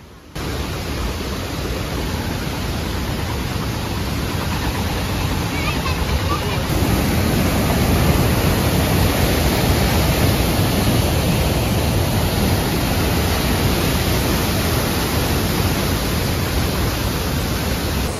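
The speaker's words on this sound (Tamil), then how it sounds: "செம்ம ஸ்பீடில் போகுது இந்த தண்ணி." Fast-rushing river water at Hogenakkal Waterfalls roars loud and close in a dense, unbroken wash that swells slightly partway through and holds steady to the end.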